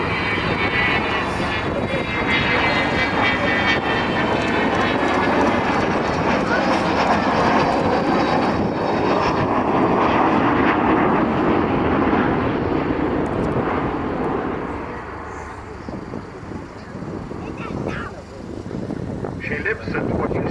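Avro Vulcan bomber flying at the RAF Cosford airshow in 2013: a loud, sustained jet engine roar fills the scene, easing slightly toward the end as the aircraft moves away, with wind buffeting the microphone.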